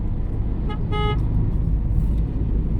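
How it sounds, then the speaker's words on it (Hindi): Village road traffic at sunset, with a steady, loud rumble of passing vehicles and two short car horn toots in close succession near the start, the second one longer. "काफ़ी ट्रैफिक तो है ही आज लेकिन"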